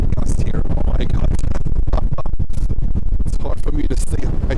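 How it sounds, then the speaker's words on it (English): Strong wind gusts buffet a handheld microphone outdoors at JFK airport, producing loud, continuous low rumbling and crackling thumps that swamp the surroundings. "Oh, we have a strong wind gust here."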